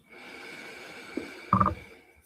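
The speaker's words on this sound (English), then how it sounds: "And then breathing in again." One brief, close, sharp nasal inhalation taken during a guided breathing practice, heard against quiet room tone with no talking.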